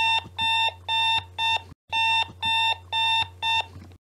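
Rooster-themed alarm clock tone: a bright, electronic-sounding pattern of repeated short bursts in rhythmic groups, loud and close, with a brief gap midway and no voices.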